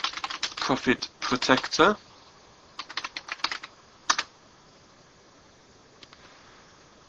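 A computer keyboard is typed on in quick close bursts of clicking keystrokes, with pauses between runs and a final few isolated taps, as someone speaks briefly at the start.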